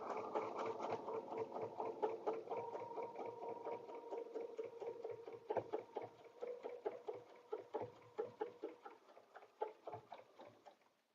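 A sewing machine quilts a table runner in a steady run of rapid, rhythmic stitching that slows into separate bursts toward the end, close and moderately loud, with no talking.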